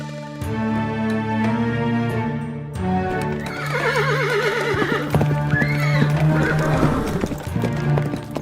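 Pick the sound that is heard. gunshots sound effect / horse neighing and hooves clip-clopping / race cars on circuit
horse neighing and hooves clip-clopping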